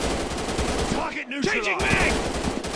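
Rapid automatic machine-gun fire in the mobile shooter FPS Commando Gun Strike Ops 3D, loud and continuous, with a shouted in-game voice line cutting through the shooting midway.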